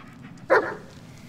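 A dog in the Blair Witch video game gives a single sharp, mid-loud bark over a low, quiet background, with faint whimpering sounds around it.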